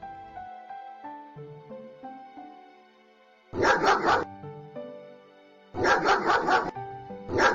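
A dog gives two short bursts of rapid barks, loud and close, over a simple tinkling children's melody playing underneath.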